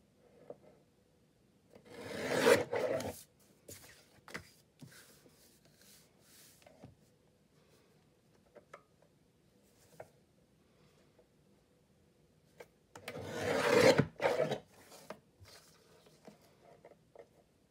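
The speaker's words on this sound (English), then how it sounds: "So I'm going to bring my cutter up." Paper cutter trimming the cover of a small pocket journal, two loud rasping cuts about eleven seconds apart with quiet handling and rustling between them.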